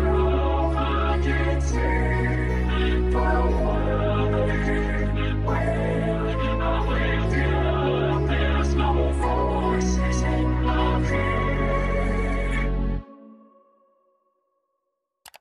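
A vocoder effect in LMMS applied to a slap house jazz orchestral instrumental, giving a dense, robotic, chord-heavy synthetic texture with a steady pulsing bass that plays loudly for about thirteen seconds and then cuts off abruptly.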